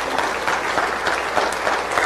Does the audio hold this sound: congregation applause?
yes